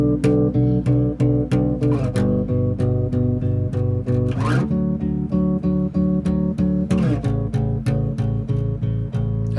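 Strummed guitar chords layered over an electric guitar line in a worship song, a steady rhythmic pattern of bright repeated strokes with sustained harmony underneath, loud and continuous with no talking.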